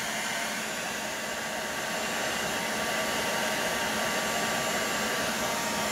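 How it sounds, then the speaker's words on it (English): Heat gun or dryer blowing hot air to heat-set airbrushed paint on a fishing crankbait, a steady loud whooshing roar that runs unbroken and alone throughout. "Gonna heat set this quick."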